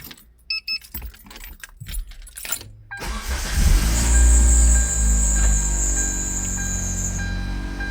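Keys jangle briefly before a car with a freshly repaired flex pipe and new oil starts up, its engine settling into a loud, steady idle rumble that continues to the end.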